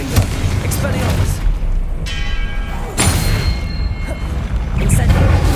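Expelliarmus spell cast in the game Hogwarts Legacy, heavy booming impacts with ringing, bell-like magical tones around two and three seconds in, loud and close over a rumbling background.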